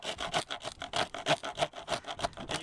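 A Range Rover Evoque Dynamic body panel being cut for fitting side bars, heard close as steady, rapid back-and-forth rasping strokes with an even sawing rhythm and no talk.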